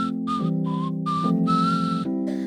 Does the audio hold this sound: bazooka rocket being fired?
no